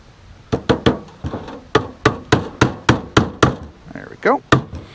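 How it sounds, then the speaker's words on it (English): A hammer drives a poultry staple into a wooden rabbit nesting box with about a dozen sharp, close, evenly spaced blows, followed by a brief voice at the end. "we'll get a poultry staple on the corner here"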